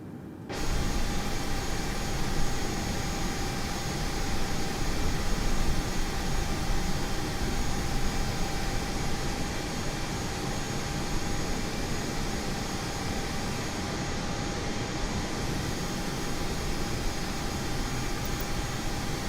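Airliner jet engines running while taxiing at Christchurch airport in a flight simulator game, a loud steady roaring whine that starts abruptly and holds constant throughout, with a thin high tone riding on top.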